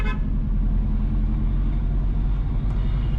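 A car driving north along Stony Hill Road in Stony Hill, Jamaica, with a steady low rumble of engine and road noise heard from inside, constant and close, with no talk.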